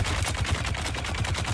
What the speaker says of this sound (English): Yeah, 2 machine guns at the same time.